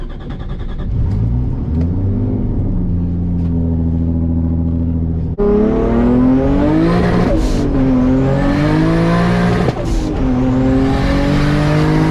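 A Toyota Supra pulls hard under full acceleration, the engine roaring loud and close as revs climb, then a quick shift and another rising surge with the note sweeping upward again.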